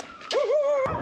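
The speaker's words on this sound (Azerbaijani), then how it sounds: "Burada burada it var." A dog gives a single drawn-out, wavering whine or yelp, fairly close and clear, ending with a short noisy burst.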